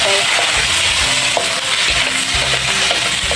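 Shrimp sizzle loudly in a hot pan as a splash of wine goes in, a dense crackling hiss with light stirring clatter and small metallic knocks, close up and without talk.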